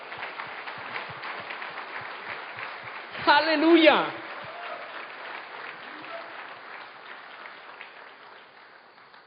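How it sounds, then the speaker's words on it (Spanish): Church congregation applauding during a sermon at a Spanish-language evangelical service, steady clapping under a shouted exclamation from the preacher, with a brief louder burst midway before tapering off. "Dale un aplauso fuerte al Señor."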